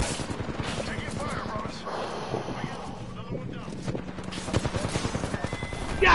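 Bursts of rapid gunfire in Apex Legends crackle under excited talking, with sharper volleys near the end.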